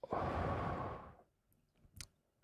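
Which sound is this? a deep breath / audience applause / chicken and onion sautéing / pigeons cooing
a deep breath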